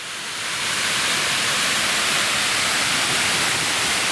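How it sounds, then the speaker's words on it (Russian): A small waterfall in a cascade on the Kapustinsky stream in the Western Caucasus: a steady, broad rush of falling water that swells in over the first half second, then holds loud and unbroken with no voices. "маленький водопадик в каскаде водопадов на ручье Капустинский"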